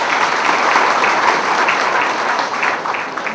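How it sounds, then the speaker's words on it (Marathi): Loud, sustained applause from a large audience at a Marathi public ceremony honouring a community figure, dense steady clapping filling the whole stretch without pause. "भाऊंच्या ठाई पुन्हा एकदा जोरदार टाळ्या येऊ द्या."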